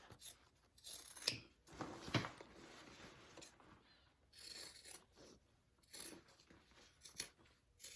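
Scissors snip repeatedly while trimming fabric for a sewn divider bag, a series of close, crisp cuts in uneven bursts with short quiet gaps between them.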